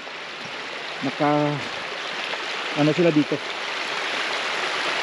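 Rainwater running down from the mountain during heavy Holy Week rain, a steady rushing stream-like wash of water that fills the whole clip, with a person speaking briefly over it twice.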